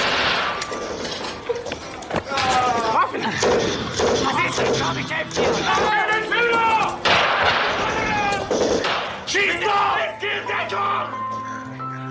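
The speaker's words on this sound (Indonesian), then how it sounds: "dilanjut dengan perang darat yang mengharuskan Solomon ikut serta dalam pertempuran" A war film battle in which a soldier is drawn into a ground fight against Soviet forces, with dense booming artillery and rapid gunfire cracks layered with crashes, shouting and a narrator's voice over it.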